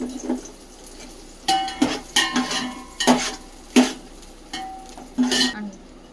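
A spoon stirs and knocks against a pan in uneven bursts over a soft sizzle of frying green chillies, with clinking metal and no voices.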